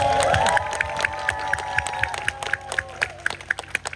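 A crowd claps in a steady rhythm while sustained voices ring out, the claps growing crisper and more distinct toward the end.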